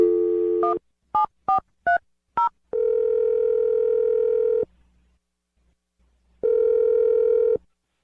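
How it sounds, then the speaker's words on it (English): A steady landline dial tone opens, broken by a quick run of five keypad beeps as a number is dialed, then a long dial tone, a short silence and another sustained tone, all loud and alone with no talking. "I'm dialing the phone number right now."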